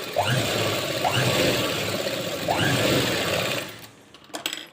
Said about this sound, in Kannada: ಈ ಎಡ್ಜಲ್ಲಿ ಕೂಡ ಒಂದು ಸ್ಟಿಚ್ ಹಾಕೊಂಡ್ಬರಬೇಕು